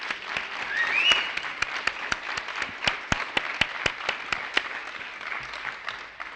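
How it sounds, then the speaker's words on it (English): A room of people at a symposium lecture applauds, a brief burst of crisp, rapid clapping that rises and then tapers off. "Round of applause for yourselves."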